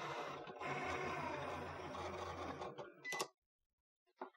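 Cricut cutting machine working through a face mask template on a loaded mat, a steady mechanical whirring and buzzing of the motor and carriage, followed by a few clicks and then near silence.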